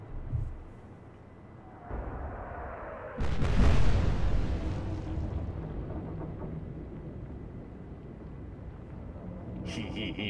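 Warship guns fire in Atlantic Fleet, a naval battle game with a German Bismarck campaign: one heavy, booming salvo, then a long rolling rumble that fades slowly, with a faint earlier thud.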